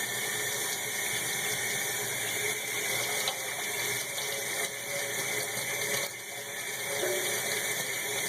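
Tap water runs in a steady, even stream for rinsing soap from an art brush, a continuous close splashing with no talk over it.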